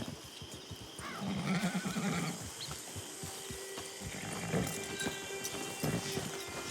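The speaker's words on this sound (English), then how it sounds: "Get your horse." A horse in the video game Red Dead Redemption 2 lets out a loud neigh and whinny, with hooves clip-clopping around it. Faint ambient game sounds continue underneath.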